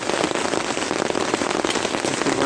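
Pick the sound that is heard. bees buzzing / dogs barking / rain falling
rain falling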